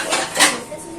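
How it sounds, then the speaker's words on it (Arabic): Dishes being washed in a home kitchen, with running water and the clatter and clink of pots, plates and cutlery close by in a short continuous burst. "هنا خلاص المواعين خلاص ما عادش الا ايه حبه صغننين بقى خالص"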